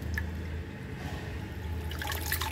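Water draining from freshly washed amaranth leaves in a colander, a continuous close trickle and dribble with small drips throughout.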